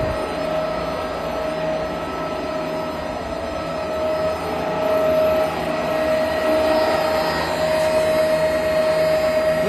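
An 800-litre SS304 stainless steel horizontal vacuum ribbon blender mixing soil runs in a factory test, giving a steady loud mechanical drone with a constant high whine, unbroken throughout and with no talk.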